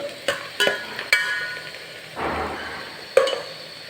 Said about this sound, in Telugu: అన్నీ వేసుకొని ఇలా ఫ్రై చేసుకోవాలి